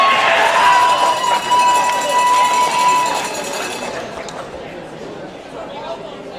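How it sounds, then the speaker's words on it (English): Audience applause at a high school robotics competition event, loud sustained clapping from a crowd with cheering and crowd noise mixed in, gradually thinning toward the end. "One more round of applause for Jenny."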